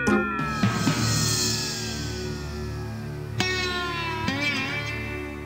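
A cat meows in drawn-out, wavering cries, loud and close, with a couple of shorter calls later; no talking.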